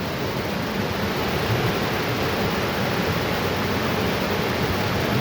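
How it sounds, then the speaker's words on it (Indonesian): Steady, loud rush of a river flowing beside hot spring bathing pools in a valley where a waterfall meets the springs, a continuous broadband roar with no pauses and no voices. "Di sebelahnya ada sungai."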